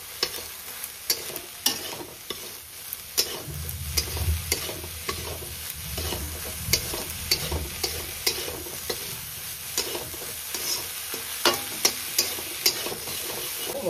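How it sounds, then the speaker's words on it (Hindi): Small prawns sizzle and fry in a pan with turmeric and salt while a utensil stirs them, producing repeated scraping clicks over a steady crackle, close and fairly loud, with no talking. "वर्तमान एथरे आमे पकेइबा हळदी गुंड, लूण। चुंगुड़ी सहित सब मिक्स करनबा।"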